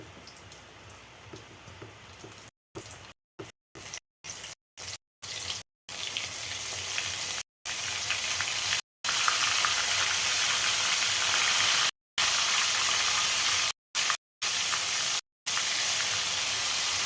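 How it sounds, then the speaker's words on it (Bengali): Pieces of loté fish frying in hot oil in a wok, a dense continuous crackling sizzle that swells as each piece drops in, broken by several brief cuts in the sound, close and loud. "সেগুলো আমি এক এক করে ছেড়ে দেবো তেলের উপরে।"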